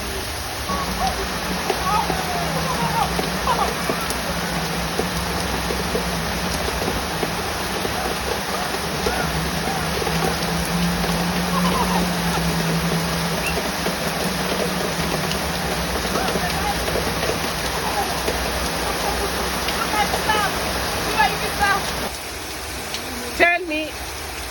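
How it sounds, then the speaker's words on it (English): Heavy rain pours down steadily outdoors on people showering in it, a dense, continuous hiss and patter with no let-up, with voices faintly present beneath. "Tell me about taking shower in the rain."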